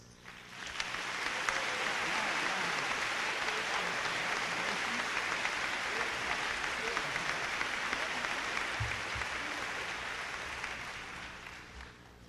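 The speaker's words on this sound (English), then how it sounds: "I would ask that you join me in honoring him with a round of applause." High school commencement audience applauding the salutatorian, a broad sustained wave of clapping from a large crowd that swells in, holds steadily, then tapers near the end, with faint voices mixed underneath.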